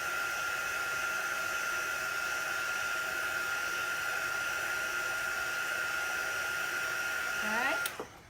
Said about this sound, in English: You can use a hair dryer or a heat tool